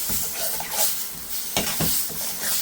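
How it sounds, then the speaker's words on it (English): Powdered spices roast in a pan for a Birmingham chicken Madras balti, with a bright close sizzle and repeated scraping stirs of a utensil against the metal, no talk. "you just need to roast those powdered spices off"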